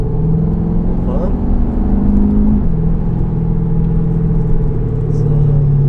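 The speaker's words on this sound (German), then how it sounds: "Wir machen jetzt mal den Sport Plus, den lauten." Mercedes W213 E350d diesel with an active sound system in Sport Plus mode, a loud deep droning engine note heard from inside the cabin, steady with a slight pitch shift midway, voices talking over it.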